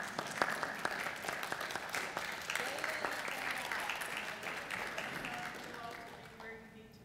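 Applause from the audience and board members at a school board workshop, a steady sustained patter of many hands with voices mixed in underneath throughout.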